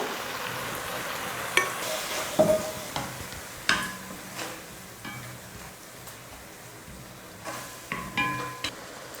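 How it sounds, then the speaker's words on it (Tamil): Cooked toor dal, mashed with a ladle, is stirred into sautéed spinach in a pan, giving soft scraping and clinking stirs over a low sizzle, with a few sharper spoon knocks spread through the clip. "அதை இப்படி கரண்டியில் மசித்து இதில் ஊற்றிக்கலாம்"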